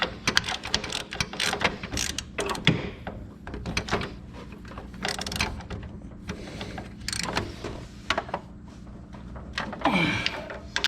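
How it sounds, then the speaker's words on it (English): On a Wheel Horse 520 garden tractor, a 42-inch rear-discharge mower deck's attach-o-matic bracket is slid and lifted into place, producing close, repeated metallic clunks, scrapes and ratcheting rattles in irregular bursts. "Now you can slide, lift in your bracket for your deck."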